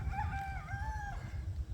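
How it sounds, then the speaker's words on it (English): A rooster on a windy island crows once, a clear rising and falling call lasting about a second, heard at moderate distance over loud, low wind buffeting. "There is a lot of roosters here on the island."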